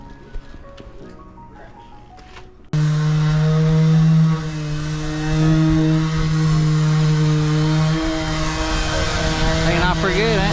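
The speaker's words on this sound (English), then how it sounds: "So we're really just gonna sand the edges of them." Power sander working the edges of painted stripes on a houseboat, a steady loud whir that starts abruptly and runs continuously close by, slightly shifting in pitch, with brief quiet handling before it.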